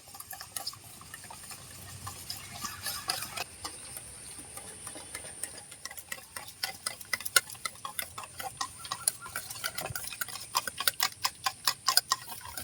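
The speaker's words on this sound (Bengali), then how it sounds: "আমি এটাকে খুব ভালোভাবে ফেটিয়ে নিচ্ছি" Eggs and sugar whisked in a bowl for a milk-and-egg pudding: rapid, steady clinking and ticking of a whisk against the bowl, faint and close, growing more rhythmic and distinct toward the end.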